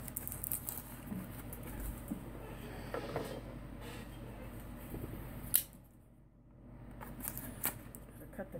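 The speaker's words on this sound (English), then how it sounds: "Cut the tape to get it open." Tape on a Lithuanian military ration box being cut open indoors, with close, brisk snipping and rustling scratches, a sharp snap midway, a brief lull, then more rustling.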